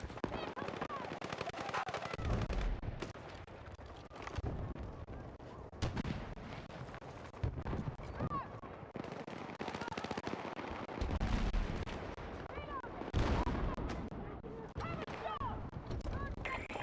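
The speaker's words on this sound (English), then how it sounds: "there's a lot of mortars right now." Battlefield 6 combat with heavy mortar blasts and rapid gunfire, a dense chaotic barrage of repeated booms and bursts throughout, with a player's voice talking at times.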